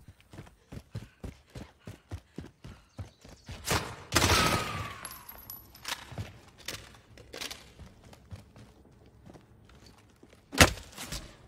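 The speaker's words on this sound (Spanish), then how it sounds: "Ya están disparando" Gunfire in a Warzone battle royale match, a steady rhythmic series of single shots at moderate distance, with a louder noisy burst partway through and one sharp close shot near the end.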